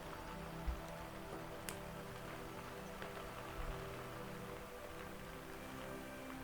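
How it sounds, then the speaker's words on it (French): Steady rain falling, a soft continuous patter with occasional single drips, quiet and even throughout. "De mon côté du micro, la pluie tombe."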